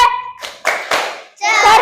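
A school class chants the Tepuk 4B clapping routine, children's voices mixing with rhythmic hand claps in short bursts, close and loud.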